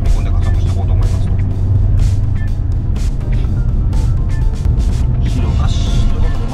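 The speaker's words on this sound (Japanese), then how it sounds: "ハーフスロットルぐらいまで踏み込んで加速していこうと思います。" Toyota HiAce Super GL Dark Prime II gasoline van accelerating at half throttle on a highway, with a steady engine drone and road rumble building under ongoing conversation inside the cabin.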